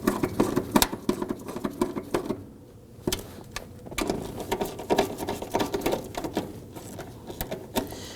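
Nuts being tightened by hand on a 2005-2009 Subaru Legacy fuel pump module, working across the ring from one side to the other, giving a quick run of light clicking and ratcheting taps that is close and moderately loud, with no talk.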